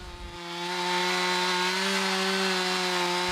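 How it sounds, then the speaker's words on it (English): A chainsaw buzzes in a quiet Kenyan forest during logging, starting up after a brief moment and holding a loud, steady, high-pitched whine close by for several seconds. "chainsaw."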